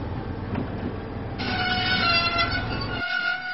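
A diesel engine from Thomas the Tank runs steadily along the track with a low rumble, then a bright horn-like tone joins partway through before the rumble cuts out near the end.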